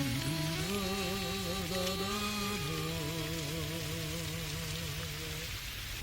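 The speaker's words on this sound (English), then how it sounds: "Come on in out of the rain, y'all." Steady, dense rain hisses throughout a stormy-weather country variety show, with wavering musical tones layered on top at an even loudness.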